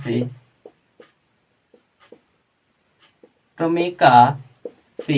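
Pen or chalk writing during a Class 10 maths lesson on Euclid's division lemma: short, sparse scratching strokes in the pauses between a teacher's speech.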